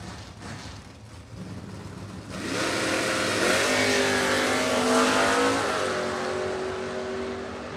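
A Mustang and a Nova launch side by side at a drag race, the quiet idle bursting into a loud, sustained roar of engines accelerating hard down the strip, heard close and without talk.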